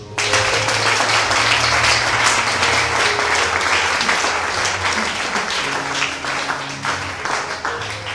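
A church congregation applauds to acclaim God in a steady, dense wash of clapping that holds for several seconds, loud and full, with scattered voices mixed in.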